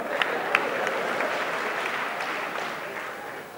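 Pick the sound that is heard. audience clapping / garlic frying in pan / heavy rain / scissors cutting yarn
audience clapping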